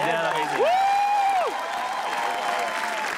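An audience at a roast-battle show claps for a couple, steady applause with a voice whooping and cheering loudly over it for about a second.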